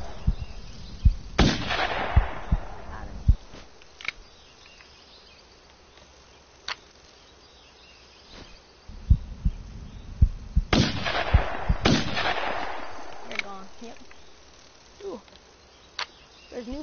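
Shotgun blasts from a hunting game ring out over buzzing insect ambience: one sharp shot early, then two more close together later, each loud and booming with a trailing echo, among scattered softer clicks and thumps.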